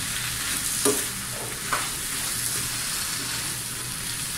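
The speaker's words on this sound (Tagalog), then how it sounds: "Pati yung hipo luto na. Kaya rambol na natin yan." Cooked shrimp stir-fried in a hot pan sizzles loudly and continuously, with a couple of short scraping stirs standing out near the start, close and without talk.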